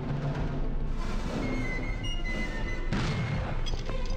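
Gunfire in the video game Nosferatu: The Wrath of Malachi, a dense, continuous rattle of shots and booms at steady loudness through the whole stretch, with no talk over it.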